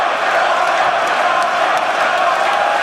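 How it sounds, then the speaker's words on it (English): A large esports arena audience at a European League of Legends finals roars in a steady, dense wall of crowd noise, loud and continuous throughout with faint whoops rising from the mass. "this crowd is giving you a warm welcome once again"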